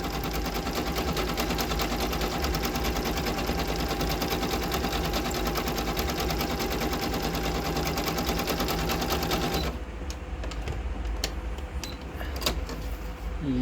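A Singer Monami Nu Plus SC207 sewing machine stitching embroidery, a loud rapid mechanical chatter running continuously for about ten seconds before cutting out, followed by a few faint clicks.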